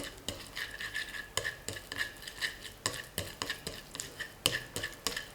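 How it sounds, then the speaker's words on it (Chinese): Yeast being stirred into warm mashed pumpkin puree in a bowl, with quick rhythmic clinking and scraping strokes of a utensil, close and fairly quiet, no voices. "加入2克酵母，搅拌均匀。"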